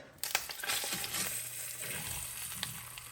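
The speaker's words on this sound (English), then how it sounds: "The skillet has gotten warm. Okay. We're gonna sear." Beef pot roast sears in a hot skillet with a steady, close sizzle and crackle, a sharp clatter near the start and occasional scrapes as it settles into the pan.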